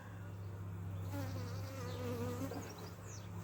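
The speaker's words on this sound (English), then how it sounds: "Awful lot more bees in here now than there were before." A dense, steady hum of many honey bees buzzing close by around a hive, a continuous drone with wavering pitch, with no talking.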